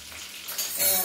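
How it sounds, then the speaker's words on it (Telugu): Garlic chili powder hits hot tempering oil in a pan and sets off a short, close sizzle that swells and brightens over about a second as it is stirred. "పోపులోనే వేస్తే బాగుంటుంది ఎల్లిపాయ."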